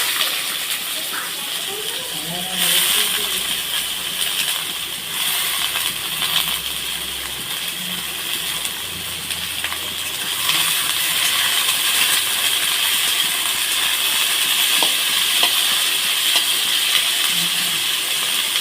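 Carrots, beans and capsicum fry in hot oil for a home-style fried rice, giving a steady broadband sizzle and hiss that runs throughout at an even level with a few faint clinks.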